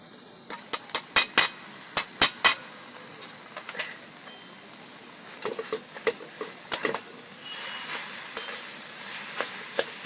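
A carrot laddu mixture is stirred in a pan for a Ganesh Chaturthi sweet, giving a series of sharp scraping strokes over a soft steady sizzle, with the strokes clustered early and the hiss swelling toward the end.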